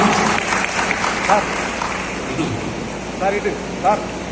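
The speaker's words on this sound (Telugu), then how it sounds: "చప్పట్లు కొట్టవలసిందిగా కోరుతున్నాం." Audience applause at a swearing-in ceremony for the new committee of an auto-rickshaw workers' welfare union in Karimnagar, a steady mid-level patter of clapping throughout with brief voices and whistle-like chirps rising over it.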